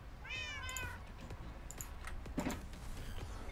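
A cat in the video game Minecraft gives a short meow near the start, with faint clicks and taps under a low background hum.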